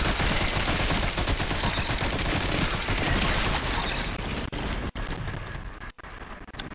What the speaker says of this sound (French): Ça part vite, hein, les balles de mitraillette